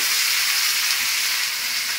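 Pitha sizzles steadily in oil in a kadai, a close, even hiss that holds at one loudness throughout with no voices.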